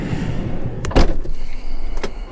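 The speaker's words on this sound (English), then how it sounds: "This is the door, so I'll just open that" A VW Transporter campervan door opens with a sharp latch click and a brief slide or thud, over steady background rumble and a second softer clunk near the end.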